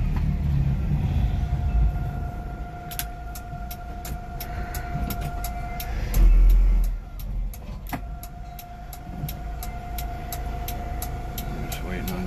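Honda Acty 4WD mini truck driving in second gear, its engine a steady low rumble with a brief louder surge midway and sharp ticking clicks, while a person talks over it.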